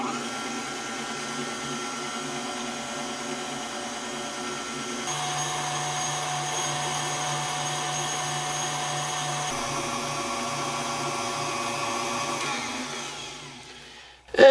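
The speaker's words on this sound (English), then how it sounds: "With our whisk attachment, we're just going to whisk this here about 3 minutes until soft peaks form." A stand mixer with a whisk attachment beats cream and sugar for strawberry shortcake, a steady motor whine held for a long stretch with small shifts in pitch, then winding down and cutting off at the end.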